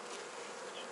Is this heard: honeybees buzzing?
yes